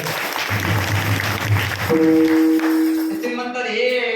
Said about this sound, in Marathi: सगळ्यासाठी एकदा टाळ्या होत्या हे